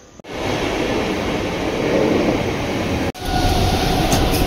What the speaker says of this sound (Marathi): आम्ही ठाकोली स्टेशनवरून ट्रेन पकडतोय दादरसाठी आणि इकडनं तुम्ही बघू शकता आता गाडी पण लागली वाटतं